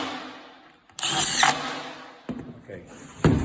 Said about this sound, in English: So we're just going to pop these 3 screws in.